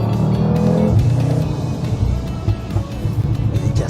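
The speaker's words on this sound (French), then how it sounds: "Le bruit est fou, l'échappement." Audi RS3 exhaust roaring loudly and continuously, a deep rumbling drone with revving surges that swell and ease over a few seconds, close and dominant.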